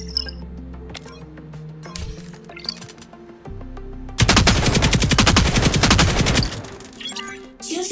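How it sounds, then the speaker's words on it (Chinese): Gunfire in the mobile shooter game Hyper Front 2, a loud rapid automatic burst lasting about two seconds, framed by single shots, clicks and menu-like sounds. "让我们试试一键开镜开火模式"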